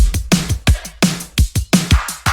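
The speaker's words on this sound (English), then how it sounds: "I added this hi-hat loop just to add some extra texture to the percussive sounds in the background" A punchy drum loop with deep kicks and crisp hits repeating in a steady rhythm, a ticking hi-hat pattern layered on top.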